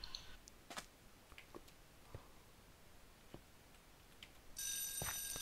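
An alarm clock rings in a Minecraft game, a bright electronic ringing that bursts in loudly near the end after a stretch of faint scattered clicks and taps.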